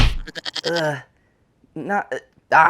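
A goat bleating sound effect: short, wavering nasal bleats placed between bursts of a man's speech, loud and close.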